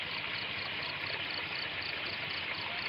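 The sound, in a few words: water flowing beside rocks like a small waterfall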